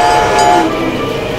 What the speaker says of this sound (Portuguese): o trem passando aqui